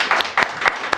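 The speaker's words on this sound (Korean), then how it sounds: "박수 치셔도 됩니다." Scattered applause during a live-streamed talk show with pastors, heard as four distinct, fairly loud claps spaced unevenly over one second, with no voices in between.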